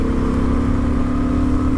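Steady, throaty drone of a Honda Transalp motorcycle engine, a mini Africa Twin-style 90 horsepower bike, humming loud and close with a constant low grunt and no talking.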